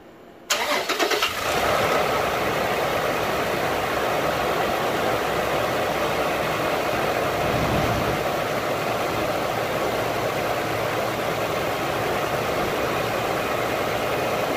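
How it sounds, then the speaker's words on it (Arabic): A Toyota Fortuner engine cranks briefly and catches after its drive belt is replaced, then settles into a steady, even idle that runs unbroken and fairly loud, with no other sounds. "بنشغل الموتر الآن"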